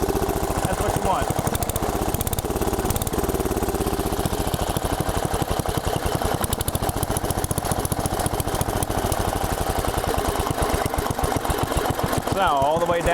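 Briggs & Stratton 10 hp engine on an Allis-Chalmers Big Ten garden tractor idling close by, a loud, steady rapid putter with slight unevenness, throttle easing down near the end.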